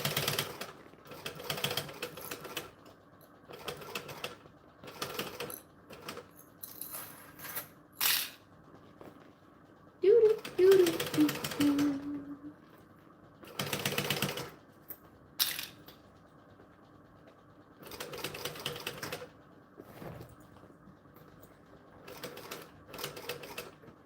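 A sewing machine stitches through thick fabric on a Transponster plush, running in short, fast bursts of rapid mechanical clatter separated by pauses, with one brief squeak partway through.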